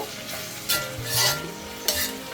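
Beef pieces sautéing with salt in a hot pan, a close, steady sizzle broken by several loud bursts as the meat is stirred and tossed.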